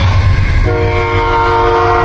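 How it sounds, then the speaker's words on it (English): A train rolls past at close range, loud and steady, with a sustained horn tone sounding through the rumble of the cars; no one speaks. "this train would go by"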